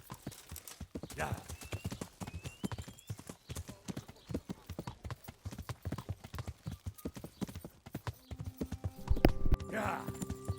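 Horse hooves clip-clopping in a steady trotting rhythm throughout in the video game Kingdom Come: Deliverance, with a horse whinnying near the end; a voice is heard faintly.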